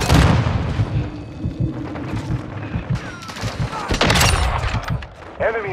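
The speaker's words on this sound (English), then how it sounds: "Throwing mortar." Mortar fire and gunfire in the Call of Duty: Modern Warfare II shooter game, close booming blasts and bursts of rapid shots mixed with game voice callouts.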